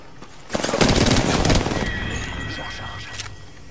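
Gunfire in Apex Legends: a dense rapid burst of shots lasting about a second, followed by a fading tail and a long high whine, with game voice chatter in the mix.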